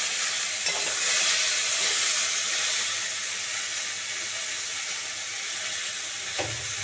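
Eggplant and cauliflower pieces sizzle and hiss steadily in a hot pan while being stir-fried for a Bengali cauliflower chorchori. A few stirring scrapes break through the constant frying noise, and no one speaks.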